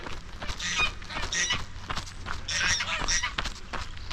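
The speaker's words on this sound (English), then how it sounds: "All right, geese." Several geese honk in scattered bursts, some calls overlapping, set against an open outdoor background hum at Ladybower Reservoir in the Peak District.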